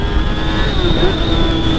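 Yamaha XJ6 motorcycle accelerating hard in second gear, a loud, steady engine howl with rising pitch and strong wind rush, recorded up close from the rider's position.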